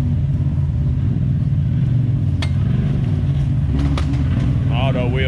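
Side-by-side rock crawler on portal axles and 35-inch tires, fitted with a blow-off valve, rumbling at low idle while parking at an off-road meetup, steady engine drone with a brief whoosh and people talking over it.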